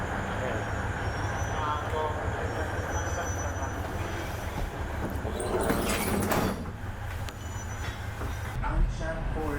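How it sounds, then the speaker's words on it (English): Alishan Forest Railway train running in Taiwan's mountains, a steady rumbling of rolling cars with a few brief squeals and clatters partway through, close and continuous, with people talking faintly over it. "Alishan Forest Railway."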